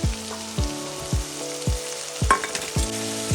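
Green chilies going into mutton sizzling in a pan, a steady close sizzle punctuated by regular ringing metallic clanks of a utensil against the pan, about one every half second.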